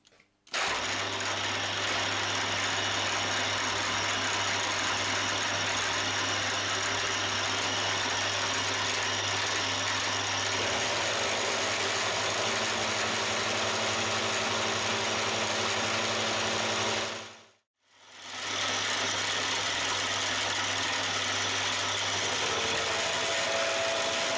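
Steady mechanical whir of a milling machine cutting 8mm key steel down to 6mm in a vise, continuous and fairly loud, with a brief stop near the end before the motor runs again.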